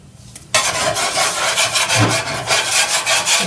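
A utensil scrapes the bottom of a pan to loosen browned flour and butter residue for a chicken piccata pan sauce, a loud rough rasping rub repeated in quick strokes after a brief quiet start.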